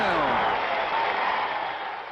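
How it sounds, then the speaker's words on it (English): Crowd at a Knicks basketball game cheering and applauding, a broad roar of many voices that fades slightly toward the end; brief and fairly loud. "And the crowd is going wild."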